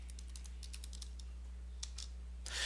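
Computer keyboard keys tapped in quick clusters while a Linux terminal command is entered, light clicks close up over a low steady hum, ending in a brief rustle.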